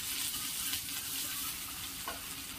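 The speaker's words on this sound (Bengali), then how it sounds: "পেঁয়াজ আর টমেটো ভাজা হয়ে গেছে" Onion, tomato and garlic paste fry in a pan, making a dense, close sizzle that holds steady with a faint stirring scrape and no voices.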